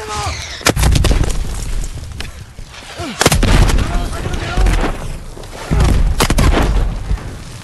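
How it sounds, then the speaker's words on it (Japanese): Artillery shelling in Call of Duty WW2 at the Battle of the Bulge, with heavy booming impacts landing in three close, loud clusters over continuous battle rumble, and voices talking amid the barrage. "なんで砲撃されてんの。"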